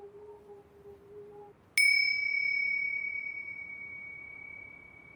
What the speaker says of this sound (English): The selection of instruments he uses includes crystal singing bowls, a handpan, and tubular chimes.